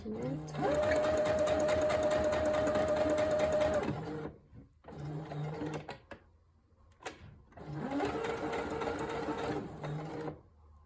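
Sewing machine running steadily as it stitches a seam on a dress, close and loud, in two long bursts separated by a short run and brief pauses.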